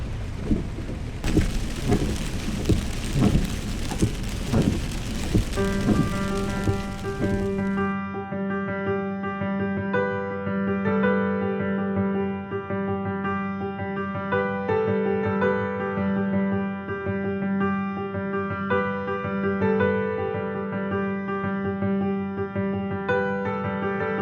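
Rain storm with thunder on a rooftop tent atop a Land Rover in the Coronado National Forest: heavy drumming rain and rumbling for several seconds, cut off abruptly and replaced by a steady musical drone.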